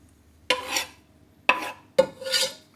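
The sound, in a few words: stirring garlic and mustard into melted butter in pan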